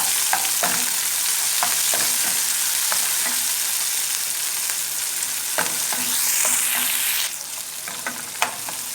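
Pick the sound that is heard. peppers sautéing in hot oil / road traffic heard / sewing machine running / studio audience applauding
peppers sautéing in hot oil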